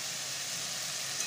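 Fried lentil dumplings (bori) go into a pan of sizzling oil with potatoes and ridge gourd, a steady faint hiss of frying with no voices.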